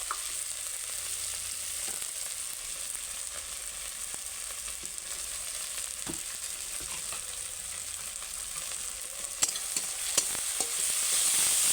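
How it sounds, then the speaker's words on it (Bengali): Ginger, garlic and ground spices frying in a pan for a Bengali yogurt-based katla fish curry, with a steady, close sizzle running unbroken throughout and no talk. "দেখো আদা রসুনটা আমার একটু কষা হয়ে গেছে বাদ বাকিটা এই মশলাটার সঙ্গে কষে নেব"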